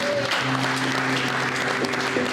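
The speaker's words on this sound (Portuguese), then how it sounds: "Quantos aplaudem ao Senhor?" A church congregation claps briefly in praise during a service, a steady burst of applause under a sustained tonal hum and some background voices.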